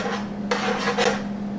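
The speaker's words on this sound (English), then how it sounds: "So I'm going to stir it real quick." Vegetables heating in a pot are stirred briefly, giving a few quick scraping rasps of a utensil against the pot over a steady low hum.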